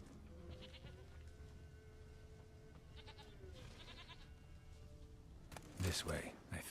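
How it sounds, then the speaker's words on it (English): A goat bleats faintly a few times in The Witcher 3, buried under steady game ambience and a person talking, with a louder burst of activity near the end. "I can hear the goat"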